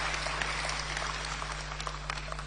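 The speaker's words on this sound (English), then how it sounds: "A round of applause for our MPs." Crowd applause for members of parliament at a political gathering, a faint, even wash of clapping sitting under a steady low hum from the sound system, fairly distant.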